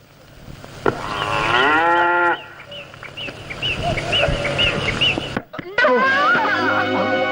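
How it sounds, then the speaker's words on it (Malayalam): A cow lets out long, loud, low moos close by, alongside a clatter of movement and faint bird calls in the background. "ഈ പശു ഒന്ന് പിടിച്ചേ, മരുന്ന് കൊടുക്കട്ടെ."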